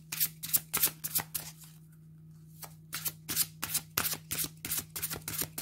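Oracle cards being handled and shuffled on a table, a fast run of crisp riffling flicks, a brief pause, then another quick series of close, snappy shuffles alone.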